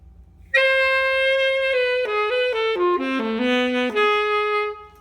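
Saxophone played with a classical embouchure on a soft 2.5 jazz select reed, a clean sustained line of notes stepping downward then back up, close and steady, with no talking.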